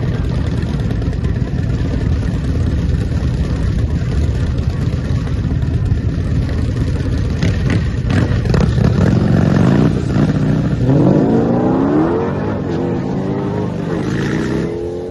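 A built Dodge Challenger drag car accelerates down the strip, its engine a loud, continuous roar that rises in pitch midway through the pass before easing off toward the end.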